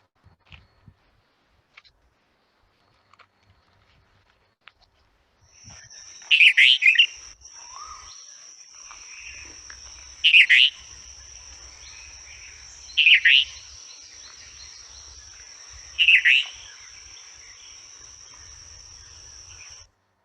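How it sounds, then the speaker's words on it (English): An Oriental magpie robin sings four loud, bright phrases spaced a few seconds apart, ringing out over a steady insect-like whine and faint low background rumble after an almost silent opening. "Oh, Oriental magpie bird."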